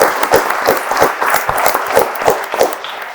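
An audience applauds a panel at an AI industry talk, steady dense clapping from a mid-sized crowd lasting a few seconds without a break.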